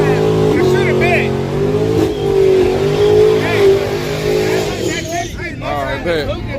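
A no-prep drag race car at a drag strip roars under steady high revs during a burnout, its loud engine note wavering and rising, with people talking and shouting over it nearby.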